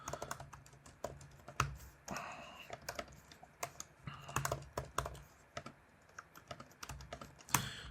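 Code is typed on a computer keyboard, an irregular run of quiet close keystrokes with occasional heavier taps, steady throughout with no speech.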